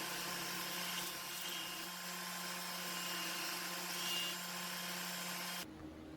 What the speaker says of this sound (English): Then it was over to the belt and disc sander to smooth out all the rough saw marks.